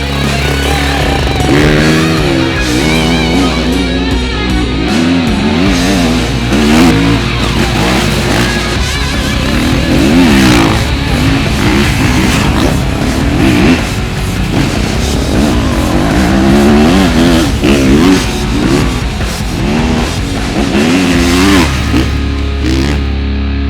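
A GasGas motorcycle ridden for fun, its engine revving and shifting loudly and steadily throughout, with a rough, distorted drone that rises and falls as the rider accelerates.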